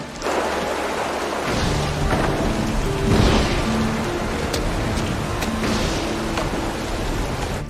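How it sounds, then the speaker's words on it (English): Heavy rain pours steadily outdoors with thunder rumbling through it and a louder crack partway in. The storm stays dense and close for the whole stretch. "It's raining outside."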